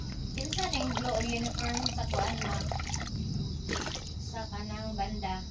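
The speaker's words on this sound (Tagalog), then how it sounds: "Lagyan natin ng konting tubig." Water poured into a dishwashing liquid mix, a steady liquid splashing and trickling that runs through most of the clip, with a person talking over it.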